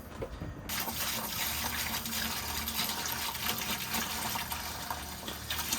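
A Barnacle Buster acid descaling solution is pumped through a boat's air conditioner, giving a steady rushing gush of flowing liquid that starts abruptly and continues loud and unbroken, with no voices.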